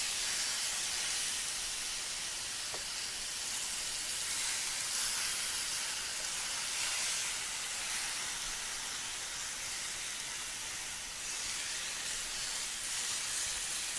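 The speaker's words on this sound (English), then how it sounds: "You hear that sizzle." Chicken sizzling on a preheated grill, a steady broadband hiss and crackle that holds at an even moderate level throughout, with no voices.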